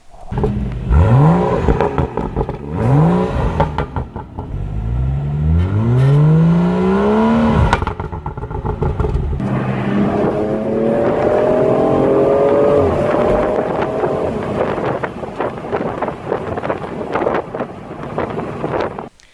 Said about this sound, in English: I did get a couple of good exhaust clips